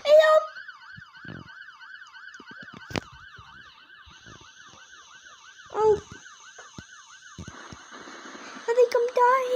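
An ambulance siren in the Roblox game Brookhaven during a house fire wails in a steady rising-and-falling cycle, moderately loud and continuous, with a few short voice bursts and game clicks over it.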